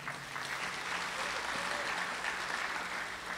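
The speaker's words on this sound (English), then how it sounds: "Let's give yourself a round of applause." Crowd applause filling a packed town hall meeting on the Los Angeles waterfront, a steady, soft, continuous roar of many hands heard from a distance, with faint voices mixed into the wash.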